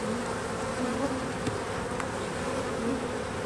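Honeybees drone steadily around an opened beehive at a spring hive inspection, a dense continuous hum close by with no talk over it.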